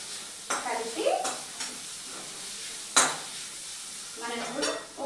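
A spoon stirs chili powder into a sizzling mixture in a metal pan for dosakaya vadiyam, with a few distinct scraping strokes and clanks against the pan over a soft frying hiss.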